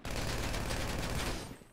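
A micro Uzi submachine gun in a video game fires one sustained burst, a dense rapid rattle of gunfire that stops abruptly near the end.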